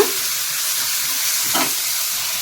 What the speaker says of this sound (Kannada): ಇದನ್ನು ಎಣ್ಣೆಯಲ್ಲಿ ಸ್ಲೋ ಉರಿ ಇಟ್ಟು ಫ್ರೈ ಮಾಡ್ಕೋಬೇಕಾಗತ್ತೆ